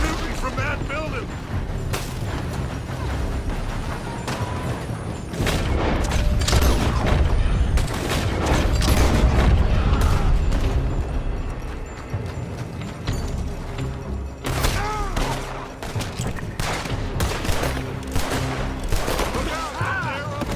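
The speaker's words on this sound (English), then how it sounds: "They're shooting from that building." Gunshots ring out from a building in the Red Dead Redemption 2 video game, a dense burst of repeated shots with horse hooves clip-clopping nearby. Voices talk over the firefight throughout.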